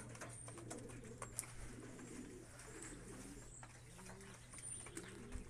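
Racing pigeons coo softly at a loft after a race, low repeated calls over a steady background hum, with faint chirps and light knocks.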